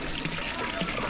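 Hot spring water runs steadily from a shower at San Benon, a dense continuous spray with faint voices in the background.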